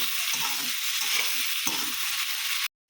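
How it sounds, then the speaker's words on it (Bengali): Green chilli fries with raw plantain and prawns in hot oil for a Bengali kacha kola chingri recipe, a steady close sizzle broken by repeated stirring scrapes, then cutting off abruptly. "আবার কাঁচা লঙ্কাটা দিয়ে দেবো। ভালো করে ভেজে নেব।"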